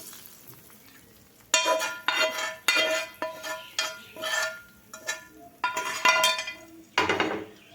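A utensil stirs handvo batter in a bowl, making a series of repeated scraping, clinking strokes in an uneven rhythm, close and fairly loud, with no voices.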